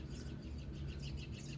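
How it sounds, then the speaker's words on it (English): Robins chirping just outside a window, a faint run of repeated high tweets over a low steady background hum, with no talk. "There's like 7 robins right outside my window."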